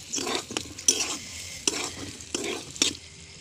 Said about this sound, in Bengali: মাংস ভুনা রেডি একদম ভুনা ভুনা ভাজা ভাজা করে ফেলেছি